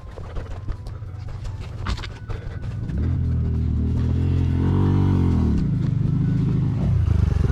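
A trail dirt bike engine starts up about three seconds in, then idles and revs with a steady rising and falling drone, close and loud, after a stretch of background noise.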